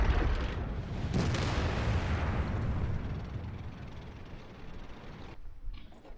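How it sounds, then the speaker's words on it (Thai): Artillery fire strikes tanks in the World of Tanks video game: a heavy booming blast with a rumbling tail that fades over several seconds, then a brief later thump. "ระวังอาร์ตี้เขาแม่นมากแล้วโดนยิงอีกแล้วนะตอนนี้ครับกำลังโดนยิงอยู่ฮะ"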